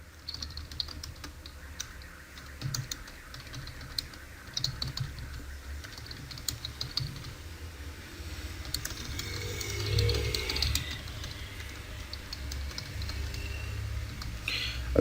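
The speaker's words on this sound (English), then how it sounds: "when I type, I'm going to type just a quote" Fingers tap a computer keyboard in quick, irregular bursts of clicks, close and fairly quiet, with a few slightly louder keystrokes partway through.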